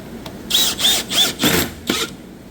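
A power drill drives screws during a white oak kitchen remodel: four or five short, loud whirring bursts close by, each ending in a brief pause, with no one talking.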